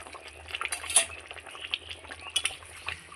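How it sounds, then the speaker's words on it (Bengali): Rohu fish head curry bubbling in a pot on the stove, a steady soft simmer with small pops and crackles throughout, fairly quiet and close. "আমার মাছের ঝোলটা খুব সুন্দর ফুটে গেছে"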